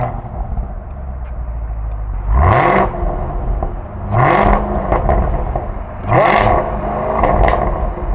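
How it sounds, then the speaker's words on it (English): A 2023 Chevrolet Camaro SS 1LE V8 in track exhaust mode fires up and revs, three loud exhaust bursts that rise and fall at steady intervals over a rumbling idle, heard close with no talking. "we want to show you the difference in the sound of this exhaust"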